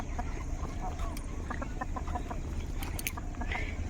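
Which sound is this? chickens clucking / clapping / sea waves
chickens clucking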